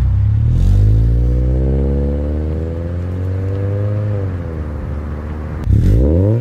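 A car fitted with an aftermarket exhaust revs up and holds a throaty, rumbling drone, eases off, then snaps into a sharp blip near the end, loud and close with no talk.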